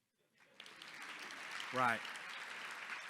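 Audience applause at a 2024 luncheon rises from about half a second in and continues as a steady, moderately loud wash of clapping, with one brief spoken word and a short voice over it.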